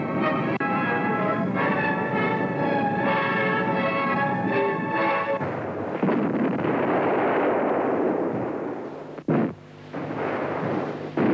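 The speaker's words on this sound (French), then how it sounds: "Auf der Erde eröffnet unsere Artillerie den Sturm auf die Festung Maubeuge." Artillery barrage in the assault on the Maubeuge fortress, heard as dense, continuous booming and rumbling with a dramatic music bed over the first half, then sustained roaring and a few sharp breaks near the end.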